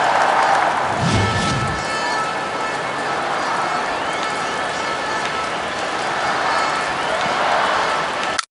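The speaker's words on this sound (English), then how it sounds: "And the crowd are well behind their team now they've got their goal." Continuous roar of a stadium crowd cheering after a goal in the Dream League Soccer 2017 football video game, a steady broad wash of noise with a brief lower rumble near the start.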